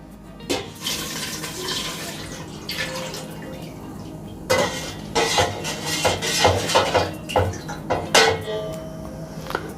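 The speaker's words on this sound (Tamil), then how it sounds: "நம்ம எடுத்து வச்சுருக்க பாலையும் சேர்த்துக்கலாம்." Milk is poured into a pan of pink balls payasam, giving a steady liquid splash and trickle with a few clinks and knocks of a metal vessel, fairly close.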